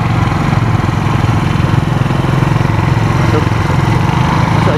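A motorcycle engine runs steadily at close range, a continuous loud rumbling drone without pauses.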